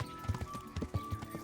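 A horse in Kingdom Come: Deliverance, hooves clip-clopping in a quick steady rhythm nearby, several distinct thuds over a second and a half, with a faint tonal hum underneath.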